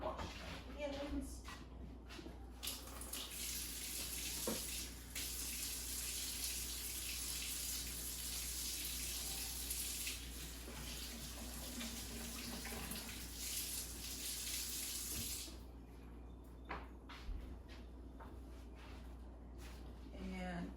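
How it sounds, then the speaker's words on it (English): A kitchen tap runs steadily as hands are washed during baking, a continuous close gush of water that stops near the end, leaving scattered handling clatter and faint talk. "Wash my hands."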